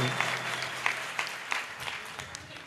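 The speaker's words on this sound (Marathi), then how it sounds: "सर्वांनी जोरदार टाळ्या या लेकरासाठी" A crowd applauds a young disciple singer at a live performance, brisk clapping with a few sharper claps standing out, fairly distant, over a faint steady hum.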